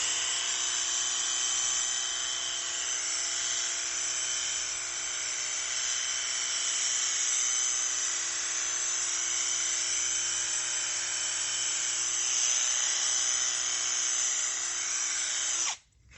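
Cordless 5-in-1 multi-head tool fitted as a washer with fan nozzle, spraying dry leaves outdoors: a steady high-pitched motor whine and hiss running continuously for about sixteen seconds before cutting off abruptly.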